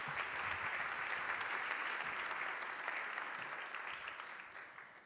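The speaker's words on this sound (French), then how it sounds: "je pense qu'on peut les applaudir" Conference audience applauds the two speakers at the end of a talk, with steady dense clapping throughout that slowly fades toward the end.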